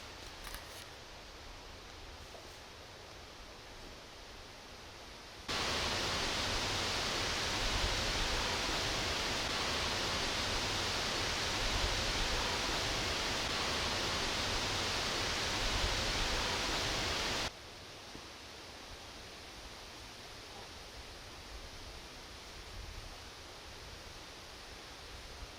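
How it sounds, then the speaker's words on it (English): Steady, loud broadband roar of wind blowing that swells abruptly for about twelve seconds, then drops back to a quieter windy hiss. "It's so windy, I can't tell what I'm hearing."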